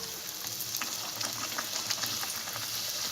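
Poori frying in hot oil gives a steady, soft crackling sizzle with scattered tiny pops, even and continuous throughout at a moderate, close level, with no talking.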